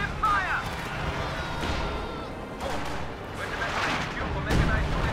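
Repeated artillery blasts and impacts boom through a Company of Heroes match in which Soviet guns shell an enemy position. The booms are heavy and irregular over ongoing battle noise, with a commentator talking throughout.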